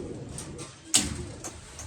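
Pigeons coo softly at a pigeon-racing loft, low murmuring calls under steady ambient noise, with one sharper knock or flutter near the middle.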